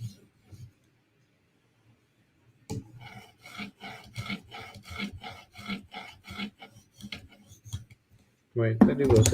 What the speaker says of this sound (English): I am sharpening this at 17 degrees like I do all Spider Coats.